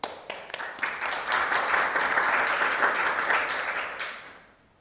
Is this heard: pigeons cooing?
no